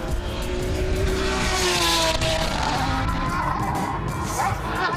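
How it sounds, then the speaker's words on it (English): A race car engine screams at high revs, with a sharp over-rev surge on a downshift and faint tire squeal, loud and close. "Oh, that's an over rev."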